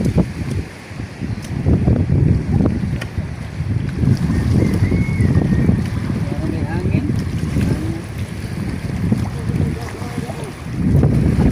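Steady northeast monsoon wind roars and buffets the microphone, a constant low rumble throughout with no talking.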